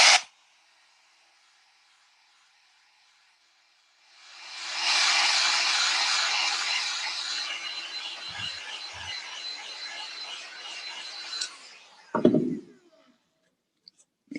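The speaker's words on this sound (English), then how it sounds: "I'm gonna take a moment here to help it dry with the gun." A heat gun blows hot air over a wet costume piece in a workshop, a steady loud broadband hiss running for about eight seconds after a quiet start, then cutting off with a few handling knocks.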